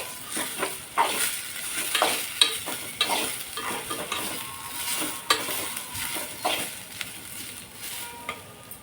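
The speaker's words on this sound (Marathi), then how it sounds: "आता टोमॅटो घालून घेऊया आणि टोमॅटो सोबत ही छान परतून घेऊया." Tomatoes being sautéed in a pan, a steady close sizzle broken up by scraping stirs, with no talk.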